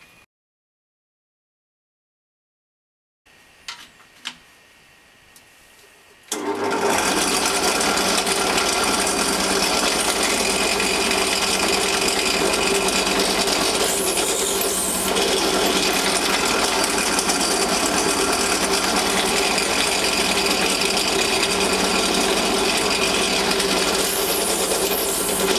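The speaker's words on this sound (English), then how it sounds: "Okay, so we'll go and drill these holes now." A power drill bores holes in Kydex sheet, starting with a few faint clicks and handling noises, then a loud steady whirring grind that runs unbroken for about twenty seconds.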